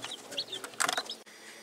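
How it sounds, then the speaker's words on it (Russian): Chickens and chicks cluck and peep close by, several high chirps and short clucks in quick irregular bursts over a quiet background. "Ну, вот такие вот цыплюшечки черненькие есть."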